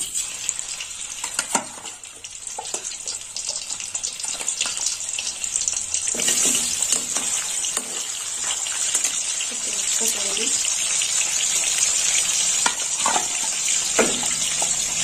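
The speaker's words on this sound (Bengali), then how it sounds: "লবণ আর হলুদ মাখিয়ে রেখেছিলাম 1 ঘন্টা আগে। সব ভেজে নেব।" Fish heads, cut into small pieces and rubbed with salt and turmeric, sizzle and crackle steadily in hot oil, a dense continuous hiss with scattered pops, fairly loud and close throughout, with no talk over it.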